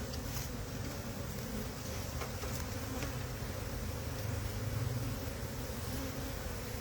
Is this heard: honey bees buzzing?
yes